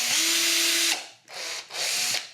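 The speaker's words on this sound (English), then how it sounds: "let's make some pilot holes" A power drill bores pilot holes in wood, with a bright high-pitched whine for about a second. Two shorter bursts follow after brief pauses, close and clear with no talking.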